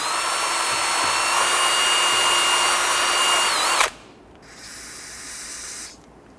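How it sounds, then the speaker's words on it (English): Power drill spinning a bore brush to clean the brake caliper slider ports on a Honda Ridgeline, a loud steady whine that cuts off, then a shorter second burst. "I'm going to use my bore brush. I'm going to go ahead and clean this out."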